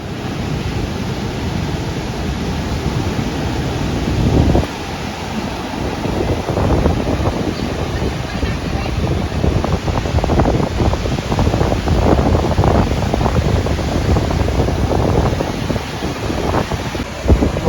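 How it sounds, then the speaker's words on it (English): Strong winds batter the microphone beside a rough, high-tide sea on Kelva Beach, Palghar. Gusty rumbling mixes with the steady roar of breaking waves, loud and unbroken throughout. "Very rough sea."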